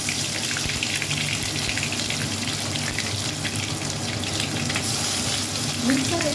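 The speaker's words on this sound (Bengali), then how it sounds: "এবারে যে আদা পেঁয়াজ রসুন পেস্ট করলাম সেই পেস্টটা এর মধ্যে" Ginger, onion and garlic paste frying in a pan with bay leaf and dried red chillies, giving a steady, fairly loud broadband sizzle that stays even throughout, with no talking.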